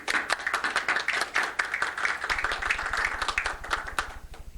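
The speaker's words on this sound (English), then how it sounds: "You're supposed to keep clapping until I got to the podium." Conference audience clapping at a 1989 herbal medicine gathering, a dense patter of hands throughout that thins toward the end, with a steady low hum beneath.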